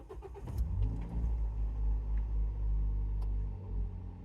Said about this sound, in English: So we're about to start the car for the first time.